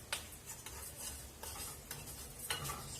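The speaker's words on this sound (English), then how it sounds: "Now still frying in the high heat." Steady sizzling and crackling of white rice frying in hot oil over high heat, with occasional scraping and stirring sounds from a utensil, close up and continuous.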